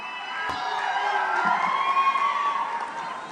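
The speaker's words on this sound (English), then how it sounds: "What an unbelievable crowd." Large crowd at a Donald Trump rally in Fayetteville, North Carolina cheers and shouts continuously, a loud sustained roar with whoops and chanting tones filling the whole stretch.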